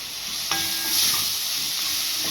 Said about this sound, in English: sauteing of the lobster and prawns